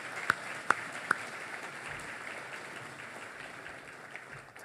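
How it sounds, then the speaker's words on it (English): Applause from a business audience at an economic outlook event in a hotel ballroom. A few sharp claps stand out at the start, then a faint, steady wash of scattered clapping fills the room. "Let's all give our sponsors a round of applause."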